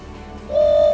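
A tundra swan gives a single sustained, loud call during a hunt, a steady tonal note lasting under half a second over faint outdoor background.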